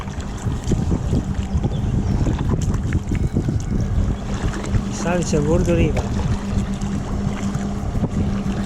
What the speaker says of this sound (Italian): E il motoscafo che non rallenta.